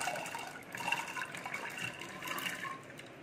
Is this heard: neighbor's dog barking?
no